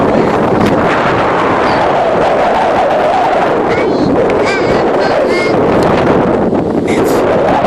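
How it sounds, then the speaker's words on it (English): Strong wind buffets the microphone outdoors with a steady roar and gusty rumble throughout, while people talk over it now and then. "It's so windy outside."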